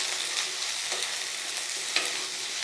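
Cauliflower and potato pieces sauté in oil, giving a steady, close sizzle with a few soft stirring scrapes and small pops throughout.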